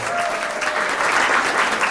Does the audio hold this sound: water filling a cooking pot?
no